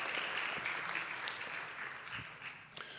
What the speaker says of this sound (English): Please congratulate yourselves with a little round of applause.